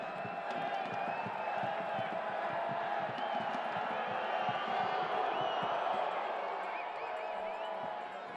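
Stadium crowd at a New Mexico United versus Fresno FC soccer match gives a steady, dense roar of many voices with scattered whoops and shouts, loud and continuous throughout.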